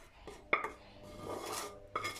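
A fried vegetable mix is tipped into a pot with two sharp metallic clanks of utensil on the pot, a short sizzling stir between them, nearby and fairly quiet.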